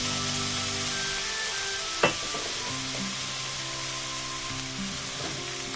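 Egg chow mein sizzles steadily in a hot pan just after a splash of vinegar goes in, a continuous loud frying hiss with one sharp scrape partway through.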